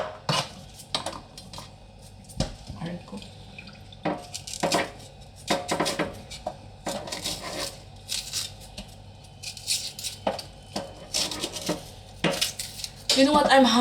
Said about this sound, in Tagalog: So there's no proper way of cutting the onion in the bulalo